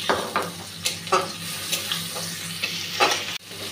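Garlic, onion and green chili paste sizzles in hot oil as a spoon scrapes and stirs repeatedly around the pan, with short crackling bursts over a steady fry.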